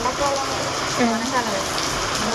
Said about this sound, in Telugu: వర్షం అయితే వస్తుంది